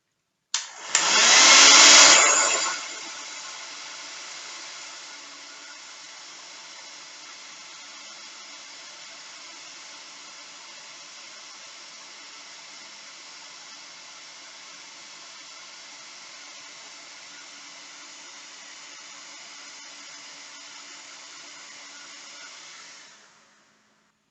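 Heat gun shrinking rubber heat-shrink tubing on a busbar: a loud rush at switch-on, then a steady airy blowing hiss held for about twenty seconds before cutting off, no voices.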